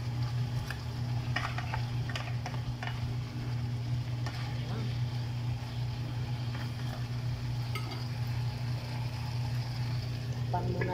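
Potatoes and carrots being stirred through chicken afritada in a frying pan, a steady close sizzle with a low hum running throughout and faint scraping strokes, while a voice talks quietly now and then.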